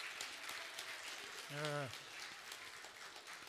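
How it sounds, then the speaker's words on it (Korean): A church congregation applauds students during a 2022 Easter Sunday service, a steady wash of clapping throughout with one brief spoken word over it. "우리 다시 한번 큰 박수로 우리 썬나잇 학생들 축복하겠습니다"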